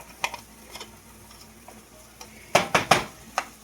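Big spoon stirring garlic in a pot: a few light scrapes and taps, then a quick cluster of sharper metallic clanks near the end, close, with faint sizzle beneath and no talk.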